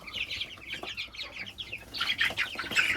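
Young chicks on a home farm cheep and cluck together in a steady chorus, some pecking at a water drinker, with a brief wing flutter and livelier chirping near the end.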